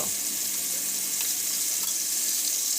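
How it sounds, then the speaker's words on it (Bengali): Broiler chicken meat frying in a pan, a continuous dense hiss of sizzling oil with a few faint clinks from turning the pieces, close and steady, no voices. "ওমটাটির মধ্যে দিয়ে দিব উল্টে পাল্টে ভেজে নেব"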